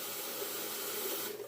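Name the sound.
hot water running into sink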